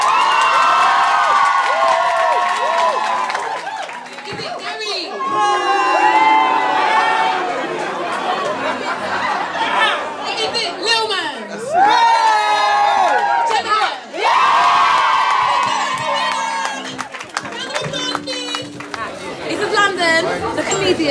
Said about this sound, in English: by round of applause, you got to tell me who's the winner